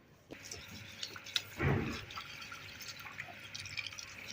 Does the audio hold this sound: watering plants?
yes